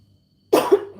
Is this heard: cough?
yes